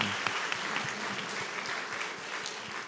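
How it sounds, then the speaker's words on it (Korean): A church congregation claps to welcome visitors at a Sunday service, a dense, even patter of many hands that fades gently over a few seconds. "우리 박수로 한번 환영해 주시죠"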